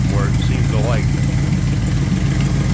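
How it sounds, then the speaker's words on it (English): A car engine sits at idle with a bad exhaust leak, giving a loud, close, continuous low rumble with steady puffing pulses and a brief rising whine near the start. "it's sitting here idling. I'm sure you can hear that nasty exhaust leak"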